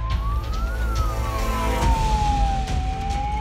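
An ambulance siren wails continuously while the vehicle sits stuck in heavy road traffic on a highway crowded by a Bol Bom pilgrimage procession, its steady rising and falling tone loud over a dense rumble of engines and crowd noise.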